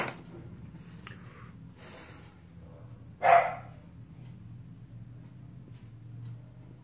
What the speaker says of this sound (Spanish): Todo el día no ladra, pero estoy transmitiendo y le da por ladrar